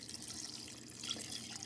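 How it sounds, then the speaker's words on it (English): Two cups of chicken broth pour steadily over chicken in a dish, making a soft, continuous liquid trickle heard close up and alone. "now I'm just going to pour the 2 cups of chicken broth over all this"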